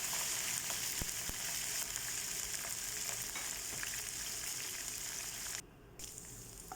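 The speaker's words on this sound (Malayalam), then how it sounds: "ഇത് ചൂടാകുമ്പോൾ അതിലേക്ക് കുറച്ച് കാഷ്നട്ടും അതൊന്ന് ജസ്റ്റ് ഒന്ന് ചൂടായി വരുമ്പോൾ അതിലേക്ക് കിസ്മിസും കൂടെ ഇടുക" Cashew nuts and raisins sizzle steadily in hot oil for a Kozhikode Malabar biryani, with a broad continuous hiss and occasional faint clicks that briefly drops away near the end.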